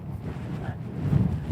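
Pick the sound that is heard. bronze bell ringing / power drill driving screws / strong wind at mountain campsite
strong wind at mountain campsite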